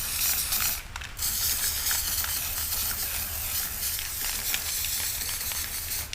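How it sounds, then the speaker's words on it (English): A spray paint can hisses in a long continuous burst, close and loud, with a short break before the spraying resumes steadily, painting carpet black. "Then we're just going to spray it."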